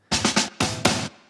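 Chopped drum fill built by slicing and reordering a sampled fill from the Cashmere pack, in a production recreating a song: punchy close hits in two quick bursts, loud and dry, with no voices.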